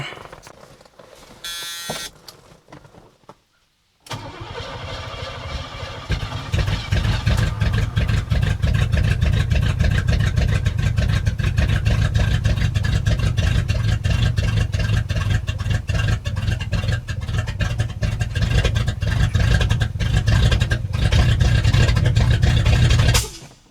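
A marketplace muscle car engine cranks and fires after a fresh battery is fitted, running rough with a steady, loud low rumble; a short pop back through the carburetor comes early, and a person talks briefly.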